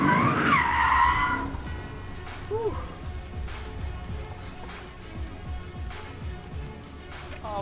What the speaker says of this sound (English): On another day, it was Daniel Ricciardo's turn to take a journalist for a high-speed lap